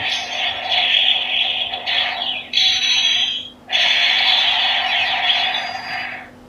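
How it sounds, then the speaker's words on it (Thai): A bootleg Chinese-made DX Fang GiaMemories toy baton plays a loud electronic sound effect: harsh buzzing bursts with a brief dip and a short dropout partway through, with no talking. "อ่ามีเสียงกระบอง"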